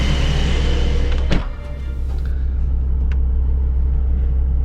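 A 2023 Porsche 911 Targa 4 GTS engine runs at a loud, steady rumbling idle with a brief sharp click, heard close up with no talking.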